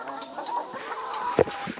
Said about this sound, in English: This is barred rock hen here